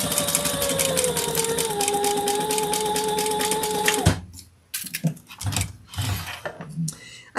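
Sewing machine stitching lining contrast bands together at the seam allowance, a steady close mechanical whirr that stops abruptly partway, followed by handling clicks and rustles.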